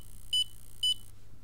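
Two short, clear electronic beeps from a SCENAR electrotherapy device warning that its battery has dropped below 8.2 volts, evenly spaced about half a second apart over a low steady hum.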